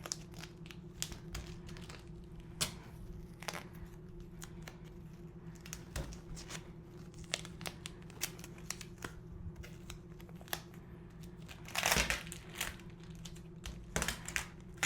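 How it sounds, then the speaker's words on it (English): A sheet of plastic is taped down with duct tape for an improvised occlusive dressing, heard as quiet, close crinkling and scattered ticks and rips of tape over a low steady hum. "We'll tape down 3 sides and we'll make ourselves an occlusive dressing."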